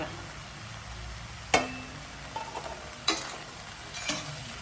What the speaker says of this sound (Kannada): ಈಗ ಸ್ವಲ್ಪ ಕ್ಯಾಪ್ಸಿಕಮ್ ಹಾಕ್ತೀನಿ